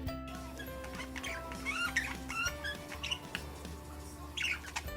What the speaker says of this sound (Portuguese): Os periquitos fazem esse som quando estão dando carinho em outro passarinho ou inclusive em você